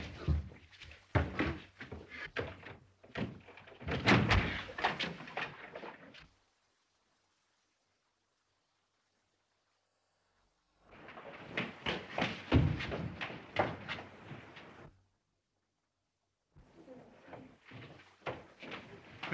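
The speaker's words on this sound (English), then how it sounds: "Let's break the door down." A locked wooden door in an old house being forced open with heavy blows: two dense bursts of loud thudding and banging, separated by a silent gap, with a third burst starting at the end.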